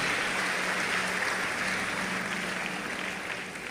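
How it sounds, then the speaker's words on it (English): A church congregation claps together after a sermon, a steady wash of hand clapping filling the hall at moderate volume and slowly fading toward the end. "You can give him a big, big hand clap."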